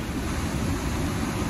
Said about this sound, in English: Is a strong waterfall that never ends.